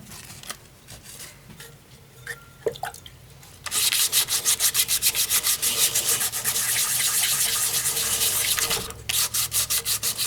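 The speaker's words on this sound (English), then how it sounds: "it becomes milky as I'm sanding it" After a few quiet handling noises, steady rhythmic wet sanding of a natural-edge wooden bowl with 1200-grit wet/dry paper begins, loud back-and-forth rubbing strokes that continue for several seconds.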